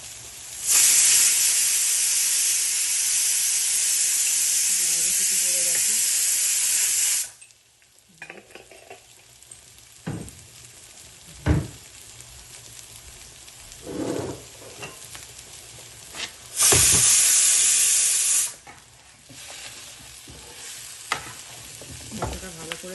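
Spices and shrimp fry loudly in a pan, a steady close sizzle and hiss in two long bursts with quieter stirring clicks and scrapes between them.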